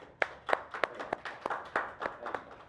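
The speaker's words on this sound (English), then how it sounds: "Everybody clap it up for him." A small group of people claps on request in an indoor hangout, giving about nine scattered, uneven claps over a few seconds. The claps are fairly faint and sound close by.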